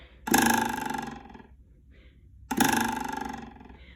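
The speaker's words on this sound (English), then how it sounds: "it's going to sound very rattly and wild like this" An oboe reed with its thread tied above the top of the staple gives two loud, buzzy crows, each about a second long, with a coarse rattling vibration, separated by a short pause.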